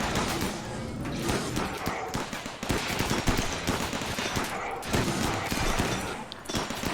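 Rapid autocannon turret gunfire in RimWorld, a dense stream of loud repeated shots hammering almost continuously in near-constant bursts with a few brief gaps.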